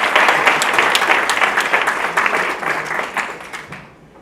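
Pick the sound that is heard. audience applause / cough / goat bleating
audience applause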